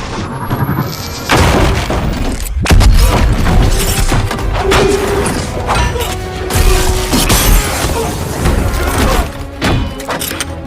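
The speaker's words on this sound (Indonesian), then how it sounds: "Dengan sigap, Adam melemparkan sebuah bom ke arah mereka." A bomb thrown during a fight scene in the film The Adam Project erupts in loud, booming blasts with crashing debris, sustained heavy rumble and repeated impacts over dense action noise, without speech.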